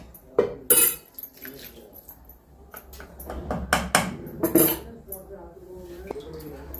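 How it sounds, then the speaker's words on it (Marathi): A metal kadhai being set on a stove for tempering, with a few sharp clanks and clinks of metal on metal and light scraping, near and intermittent against a quiet background. "फोडणीसाठी कढई ठेवलेली आहे."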